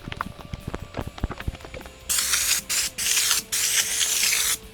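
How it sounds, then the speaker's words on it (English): A spray gun hisses loudly in several long close bursts while spraying paint mixed with hardener on a square drop camper, after a stretch of quieter clicking and handling noises. "Hope that doesn't mean I've like sprayed out all the hardener or something."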